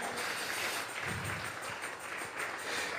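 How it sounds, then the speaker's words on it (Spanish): Church congregation clapping as an offering of applause to God during a Sunday service, a dense, steady patter of many hands at a moderate distance, continuous for the whole stretch. "Vamos a regalarle ofrenda de palmas al Dios de la gloria."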